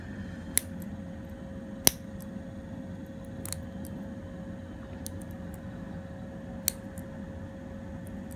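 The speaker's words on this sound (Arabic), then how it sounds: "اوكي ناخذ مقص." Scissors snip a few times during at-home press-on nail application, giving sharp, quiet, isolated clicks spaced a second or more apart over a low steady room hum, with no talking.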